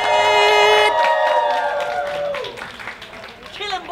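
An audience applauds and cheers to welcome a duo at a staged show. The clapping and crowd noise stay loud and continuous, under a sustained musical tone that fades out partway through.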